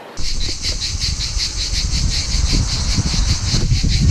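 Cicadas in the south of France near Cassis drone in a loud, rapid pulsing buzz that runs unbroken through the whole stretch over a low rumble of outdoor noise.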